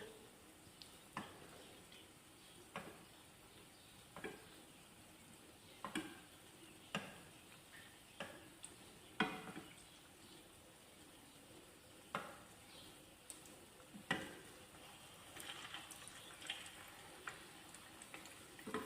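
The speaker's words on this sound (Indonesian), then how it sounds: "Cara menggorengnya itu yang di atas tuh kita siram-siram dengan minyak" Cassava balls filled with palm sugar fry in oil over medium heat, with hot oil ladled over their tops; faint sizzling runs under a series of soft, irregular clicks and taps, with no talking.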